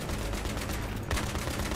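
Battlefield 3 video game combat, dense rapid gunfire and bursts of automatic weapons rattling continuously, with a sharper heavy blast near the end, all mixed under constant battlefield noise.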